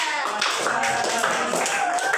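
A class of children clapping together for a classmate during a lesson, a short burst of rhythmic, fairly soft claps with some chatter mixed in.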